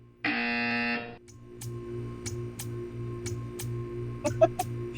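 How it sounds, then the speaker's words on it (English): A loud, harsh buzzer in Portal 2 blares for nearly a second, followed by a quiet electronic hum and a series of soft, evenly spaced ticks. "You will hear a buzzer."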